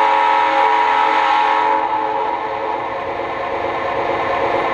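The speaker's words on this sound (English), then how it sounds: "Here's the horn." A model train's horn blares loud, steady and reedy, close and unbroken for several seconds with a slight dip in volume midway.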